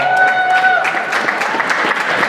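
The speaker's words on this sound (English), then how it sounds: "Nice round of applause for the 51 of Brandon Paul." Crowd applause rings out at a short-track race for the number 51 car's driver, Brandon Paul, a steady wash of clapping throughout, with a voice briefly audible over it.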